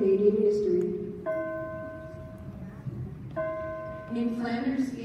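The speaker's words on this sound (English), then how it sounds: "As the final bells toll, let us read together one of the most famous war poems in Canadian history." Church bells toll for a Remembrance Day assembly, two sustained ringing strikes about two seconds apart sounding over a murmuring hall crowd, with a voice audible near the end.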